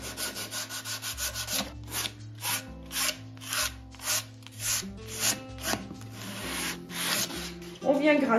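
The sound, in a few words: scraping painted surface with a grade 120 sanding pad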